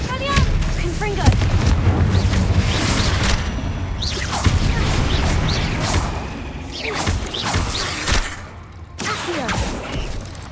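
Spell-casting combat in Hogwarts Legacy, a dense run of loud blasts, cracking impacts and whooshes packed close together, with explosive booms rumbling beneath and a brief lull near the end.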